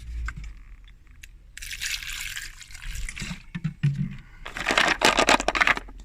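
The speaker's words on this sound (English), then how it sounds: "we'll give it a swish with some acetone and see how that goes" Acetone swished around over a car wheel, liquid sloshing and splashing in short bursts with quieter gaps between, close by and growing more vigorous toward the end.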